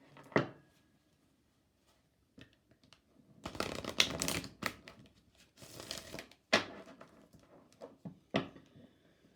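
Romance Angels oracle cards being shuffled, with bursts of rapid papery riffling and crisp card flicks spread across the stretch, loud and close with no talking.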